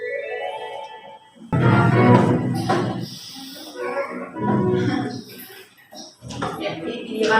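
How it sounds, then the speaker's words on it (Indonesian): A cartoon character lets out a long, loud, throaty burp, with a few shorter gurgling belches following, set against animated-show music and sound effects. "Video pertama tentang apa? Sendawa."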